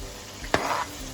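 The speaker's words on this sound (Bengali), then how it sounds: "তেলটা গরম করে নিয়েছি, এবার পেঁয়াজ দেবো আগে।" Onions hit hot oil for chilli con carne with a sudden loud sizzle burst that settles into a steady frying hiss, close up, with no talk.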